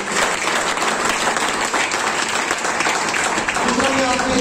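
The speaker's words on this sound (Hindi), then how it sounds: "चाहूंगा एक बार जोरदार तालियां साधु सर की।" A seminar audience gives loud, dense applause, a continuous wash of many hands clapping at once that holds steady throughout without a break.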